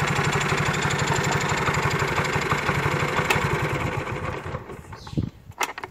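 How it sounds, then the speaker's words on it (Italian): An LML Star Vespa-style scooter engine runs at a steady, loud, rapid idle with a buzzy two-stroke pulse, then cuts out near the end, leaving a few scattered clunks. "E il motore è partito."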